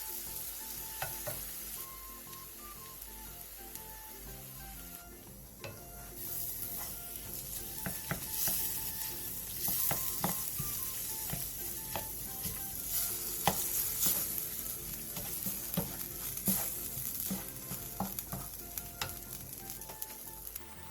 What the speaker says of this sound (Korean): 된장 2스푼과 고추장 1스푼을 넣고 1, 2분 정도 볶아주세요.